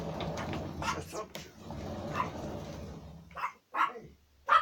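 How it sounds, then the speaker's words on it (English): Outdoors at night in Harrogate, UK, a dog lets out a few sharp barks and yips near the end, after a stretch of low background rumble and mumbling voices. "Bloody dog."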